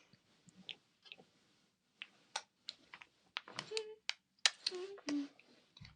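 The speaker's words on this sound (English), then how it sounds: "I think they're typing" Someone types on a computer keyboard, producing sparse, faint clicks that grow into a quicker, irregular run of keystrokes with a few sharper taps.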